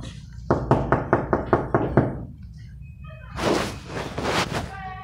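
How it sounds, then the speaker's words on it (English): Seven quick, evenly spaced knocks rap on a door inside a dialysis center, loud and close, followed by a burst of broadband noise. "I keep them knocking, but I can't get in."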